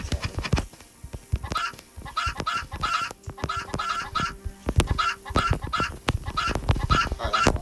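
Chickens clucking in the video game Bedwars, repeated clucks and squawks layered with rapid game hit and click sounds, loud and busy throughout.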